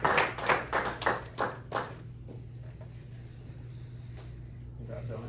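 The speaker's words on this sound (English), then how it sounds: "So let's give him one more round of applause." A few people clap for an athlete of the week at a press luncheon, roughly eight separate claps over under two seconds before they fade. Low room hum and murmur continue afterward.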